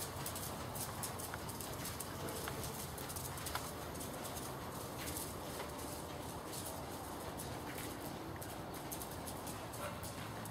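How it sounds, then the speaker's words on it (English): A horse canters in a riding clinic, hooves clip-clopping in a steady rhythm under constant background noise, faint and at some distance. "That was an absolutely fine canter transition."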